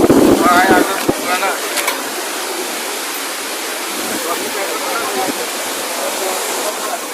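The Gundicha Ghagi waterfall at Harichandanpur, a steady broadband rush of falling water that fills the whole clip, with a brief voice and wind buffeting at the start.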